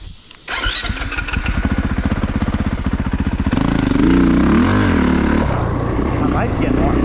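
A Honda CRF450RX enduro dirt bike idles and revs near the rider, a steady thumping single-cylinder pulse that swells into louder revving midway and holds on strongly.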